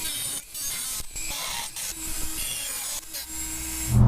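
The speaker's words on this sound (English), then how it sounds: "because I have a Dremel, I'm going to use it" A Dremel cuts a notch into a steel rear bumper, giving a close, high-pitched grinding whine broken by several short pauses as the tool lifts off the metal.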